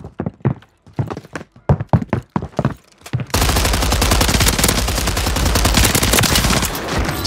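Gunshots in the video game Warzone 3 open as a run of separate loud, punchy shots, then turn into a dense, sustained roar of rapid fire.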